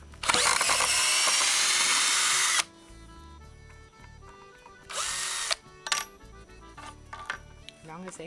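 A power drill whirs loudly for a couple of seconds while a wooden garden bench is taken apart, then stops and gives a second shorter burst, followed by scattered clicks and knocks of screws and wood.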